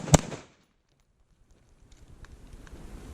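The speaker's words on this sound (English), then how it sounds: "Alright, so that's the live fire" One sharp, loud gunshot cracks at the very start during a live-fire reflexive shooting drill, then decays into quiet outdoor ambience with faint wind and shuffling.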